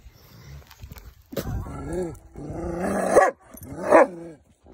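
An old dog gives a few throaty barks and drawn-out growling vocalizations in a warm greenhouse, close and fairly loud, with short pauses between the bursts.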